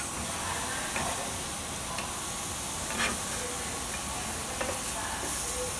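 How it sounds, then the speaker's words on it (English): Mango pieces sizzle on a hot grill as they are flipped, a steady close hiss with a few faint clicks and scrapes running through it. "I'm gonna go ahead and flip our mangoes"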